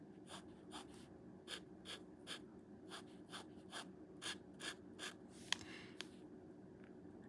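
A TWSBI Eco fountain pen with a bronze nib scratching across paper, a series of short, dry rasping strokes in an irregular rhythm, close and quiet, with soft breathing underneath.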